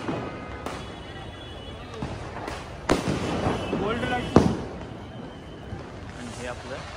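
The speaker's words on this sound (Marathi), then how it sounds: "इकडे फटाके अजून फोडत आहेत चालू झाले." Firecrackers bursting during the Diwali Dipotsav festivities at Shivaji Park, Dadar. A few sharp bangs pop out over a constant crowd hubbub, and voices can be heard.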